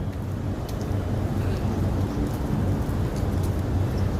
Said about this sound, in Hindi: रेन हो रही है, अमृत वर्षा हो रही है